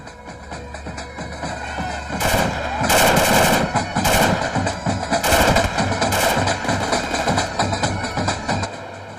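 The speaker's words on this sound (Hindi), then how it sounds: "हम फायरिंग करता है" Celebratory gunfire at a wedding, with loud bursts of rapid shots and a few single reports fired in clusters. Sustained crowd noise and voices run underneath throughout.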